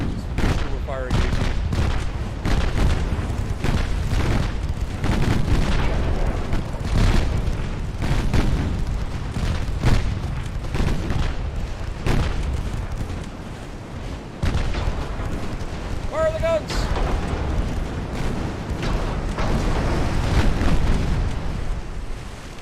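Naval guns fire in Ultimate Admiral, heavy booming salvos and rolling blasts that repeat densely and loudly for the whole stretch, with sea battle noise underneath.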